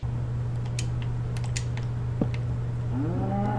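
A low, drawn-out Minecraft cow moo rises near the end over a steady electronic hum and faint keyboard clicks, with rain in the game and no one speaking.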